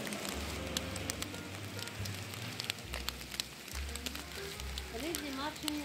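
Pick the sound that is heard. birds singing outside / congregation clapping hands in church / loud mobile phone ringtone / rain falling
rain falling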